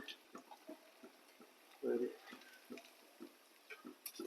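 Chicken french fries deep frying in hot oil give off a steady, soft sizzle with small pops and one brief louder bubbling burst, heard alone at low level.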